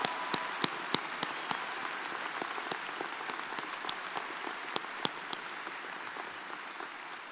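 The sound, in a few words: audience applause for graduates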